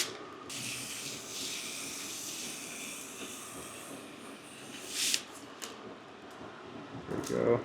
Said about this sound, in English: And then I spray the outside and get all this out.